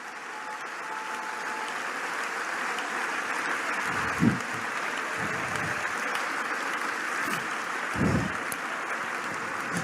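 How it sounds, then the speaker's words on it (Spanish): A church congregation claps together during a service, a continuous, even wash of applause heard at moderate distance with a few louder bursts rising out of it. "Fuerte aplauso a Jesús."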